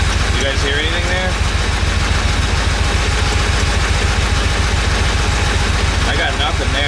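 A Porsche 911 engine idles roughly with spark plugs pulled, a loud, steady low throb with an uneven pulse running the whole time while people talk over it.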